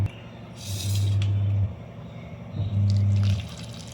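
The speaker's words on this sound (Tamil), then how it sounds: "இப்போ முதல்ல வந்து கருவாடை சுடு தண்ணி ஊற்றி ஊற வச்சிடலாம்" Hot water is poured over dried fish to soak it in a village-style kitchen, two short steady pours a second apart, close and moderately loud.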